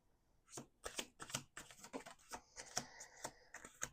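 Tarot cards are shuffled by hand in a quiet room, a quick run of about a dozen crisp riffling bursts at an uneven pace, close and clear with no talking.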